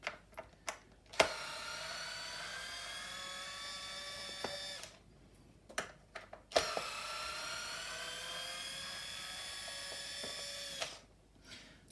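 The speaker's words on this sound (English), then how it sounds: "you're gonna need that CRV T20 head, and just screw them all out" A powered driver with a CRV T20 bit backs screws out of the front frame of a Stokke Trailz stroller, two sustained whining runs of several seconds each separated by brief clicks and handling noises.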